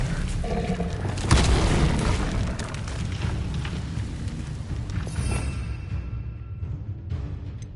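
A Bombarda spell in Hogwarts Legacy detonates in a heavy, booming blast, followed by rumbling debris and fading crackle over several seconds.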